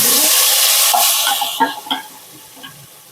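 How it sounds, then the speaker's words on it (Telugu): Ground paste drops into hot oil in a kadai for paneer butter masala and bursts into a loud, hissing sizzle that fades over a few seconds, with several clear spatters and stirring taps near the end. "కొంచెం ఆయిల్ వేసుకోవాలి వేడైనాక గ్రైండ్ చేసుకున్న పేస్ట్ని వేసుకోవాలి"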